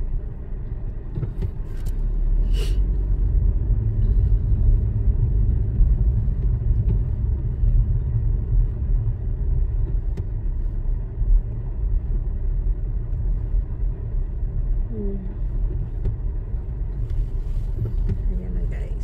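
Road traffic crawls at the entrance of a flea market, a continuous low engine rumble from nearby cars with faint people talking in the background.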